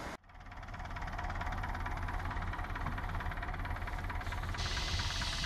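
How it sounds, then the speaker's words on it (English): A tractor engine starts up and runs at a steady idle on a tea tree oil farm, a loud, close rumbling with a rapid knocking pulse that continues unbroken, nobody talking over it. "then I better go get the tractor"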